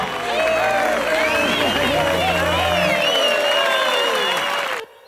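Loud, dense applause from a crowd, with clapping and some cheering that holds steady for several seconds before stopping abruptly.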